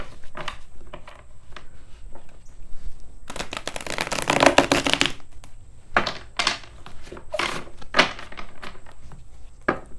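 A Sacred Healing Journey card deck being shuffled up close: scattered flicks and taps, then a dense riffling burst in the middle, followed by a few more sharp card snaps.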